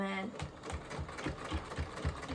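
A hefty sewing machine runs in quick, steady stitching pulses while fabric is sewn for a towel wrap, close and fairly loud, with a voice talking over the rhythmic clatter.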